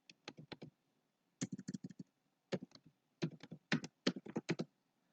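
Login credentials are typed on a computer keyboard, quick clusters of crisp key clicks in short bursts with brief pauses between them, close and fairly quiet.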